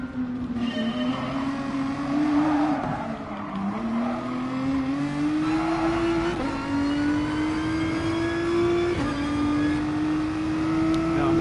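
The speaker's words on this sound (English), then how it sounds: "I'm going to drive it on the Kyoto driving park" A GTI Roadster VGT race car in Gran Turismo Sport drives around the Kyoto Driving Park, its engine revving steadily higher through gears with a few shifts, loud and continuous without pause.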